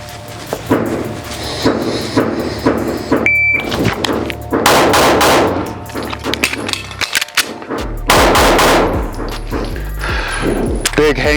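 A Smith & Wesson M&P 9 M2.0 FDE 5-inch pistol fires a three-reload-three drill on a range: loud, close bursts of shots split by a fumbled magazine change, with a voice speaking between strings.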